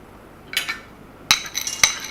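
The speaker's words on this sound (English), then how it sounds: "See, they're frozen. You can hear them clinking into the pan." Frozen peas poured into a pan with zucchini and mushrooms, giving bright clinking rattles in two short bursts followed by a few scattered sharp clinks, close and alone.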